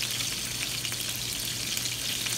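Homemade meatballs fry in a pan with a dense, even crackling sizzle that carries on without a break, close up and with no voices.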